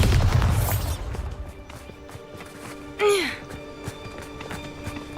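A Bombarda spell blast in Hogwarts Legacy goes off as a single sharp burst with a swooping, descending magical whoosh, standing out against steady background game ambience.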